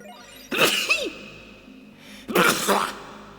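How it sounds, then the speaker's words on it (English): A person indoors on a cold night lets out two breathy, sneeze-like bursts about two seconds apart, each sharp at the onset and then trailing off, fairly close and loud over a faint background hum. "And I'm also sneezing."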